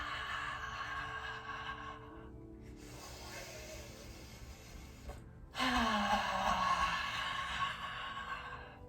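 Deep audible breaths during a yoga session for anxiety, long drawn inhales and exhales with brief silent gaps, close and fairly loud, the last one rising and falling.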